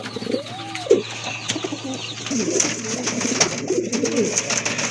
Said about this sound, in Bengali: এই যে দেখেন কতটা তেজি কবুতর